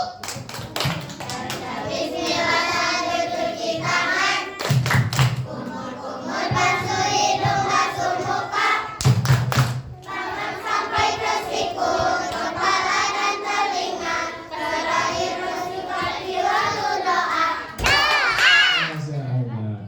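Children chant the tepuk wudu clapping game, with rhythmic hand claps running under their sing-song voices and a few sharper bursts of clapping standing out along the way.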